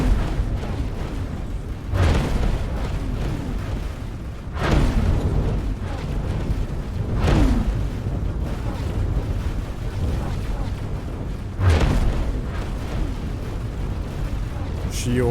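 Repeated explosion booms from Xenon ships being blown up in a space combat video game, four heavy bursts spaced a few seconds apart over a constant low game rumble and music bed.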